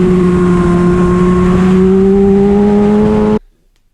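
A motorcycle held at full throttle on the Jerez circuit gives a loud, steady engine howl whose pitch climbs slightly, close and alone, then cuts off abruptly near the end.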